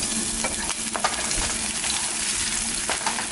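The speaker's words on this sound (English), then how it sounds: "it is starting to sizzle." Steady sizzling and crackling of food frying in a pan, with occasional stirring scrapes, fairly quiet and close.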